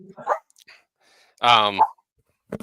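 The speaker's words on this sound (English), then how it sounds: "Oh, got dogs." Dogs bark in short bursts, a couple of sharp yaps and a louder bark, with quiet gaps between them.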